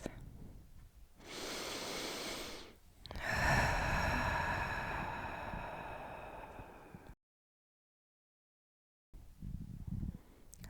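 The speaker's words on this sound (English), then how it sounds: "And breathe." Slow, audible breathing during a yoga breath practice, with a long exhale, a pause, then a longer breath that fades into near silence before a short final breath.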